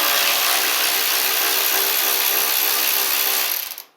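Rapid continuous ratcheting of a wrench backing out 10mm bolts on a Kohler Command engine, close and loud, clicking steadily for a few seconds before stopping.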